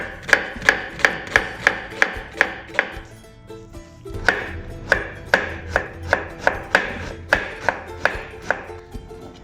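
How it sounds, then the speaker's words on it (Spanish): A knife chops onion into very fine cuts on a board, about twenty crisp, evenly paced strokes in two runs with a short pause between, close and fairly loud with no talking. "lo que voy a hacer ahora es trabajar con la cebolla, buscando unos cortes muy finos"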